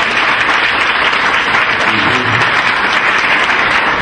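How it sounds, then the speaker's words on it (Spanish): Loud, continuous audience applause at a school oratory contest, a dense wash of many hands clapping steadily throughout with no pause. "Por favor, un aplauso."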